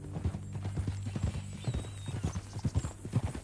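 Horse hooves clip-clop at a steady walking rhythm in the Western video game Red Dead Redemption 2, close and fairly loud, with a faint voice murmuring underneath.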